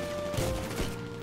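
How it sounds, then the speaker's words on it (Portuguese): A shotgun blast in the video game GTA V online, a dense burst of in-game gunfire and crashing noise over a constant background din, with no talking. "Eu dou um tiro de 12 no Léo, ele não morre de primeira."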